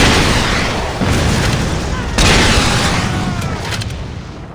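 Heavy booming explosions in Saints Row, an open-world crime game, loud and close, with blasts at about one and two seconds into a dense roaring rumble that lingers and slowly tails off.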